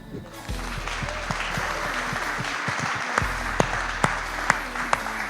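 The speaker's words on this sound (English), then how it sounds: "give another round of applause or standing ovation for our panel" Attendees at the Black Care Experience Conference 2025 applaud a care-leaver panel with scattered claps over a steady low hum, growing into sharper, more distinct claps toward the end.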